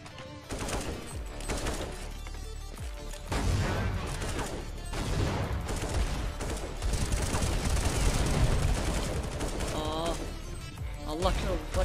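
Gunfire in the video game Counter-Strike 1.6, with rapid automatic bursts and clattering weapon mechanics through much of the clip, mixed with game sounds and someone talking over it.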